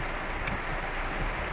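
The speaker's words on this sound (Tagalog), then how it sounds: "kung ganito kalakas ang ulan." Heavy typhoon rain in Metro Manila pours down in a dense, steady hiss, with no voices and no breaks.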